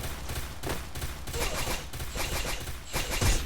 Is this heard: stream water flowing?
no